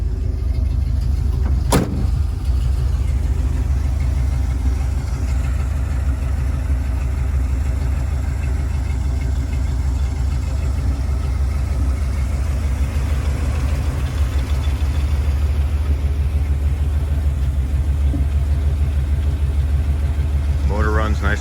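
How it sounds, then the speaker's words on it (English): A 1974 Dodge B200 van engine with headers and dual exhaust idles steadily with a deep, throaty rumble, close and continuous, with a sharp click near the start. "It's got headers on it, dual exhaust, so it sounds really good."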